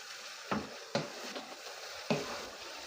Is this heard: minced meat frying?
yes